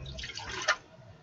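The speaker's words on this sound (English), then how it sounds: "you take some asparagus, you dump the whole thing with the water in it" Asparagus dumped with its water into a cooking pot, a brief splashy pour lasting under a second with a sharp splash near the end, close and moderately loud.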